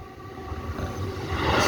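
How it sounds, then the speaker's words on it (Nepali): A train passing in Hachioji, Japan sends up a low rumble that swells louder over less than two seconds, with no talking. "ट्रेन गयो"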